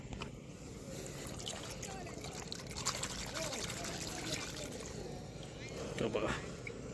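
Rice seedlings are rinsed in water in a muddy paddy field during transplanting, giving a continuous close splashing and trickling with faint voices in the background.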